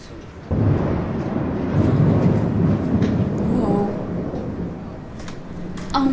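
A deep rolling rumble of thunder from a thunderstorm, heard from inside an airplane, that swells and lingers, with voices talking faintly over it near the end.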